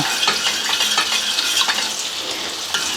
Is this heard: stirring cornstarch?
yes